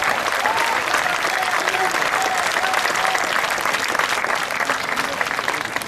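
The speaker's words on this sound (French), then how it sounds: "Je vous demande d'applaudir Yannick Lollet." Applause rings out at a Canadian pétanque event as a champion player from Longueuil is introduced, a loud, sustained crowd ovation with steady dense clapping and faint tonal sounds beneath.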